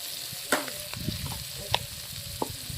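Fish roe fries in hot oil with a steady sizzle while a spatula stirs it, giving three sharp scraping clacks against the pan over a low crackling bed.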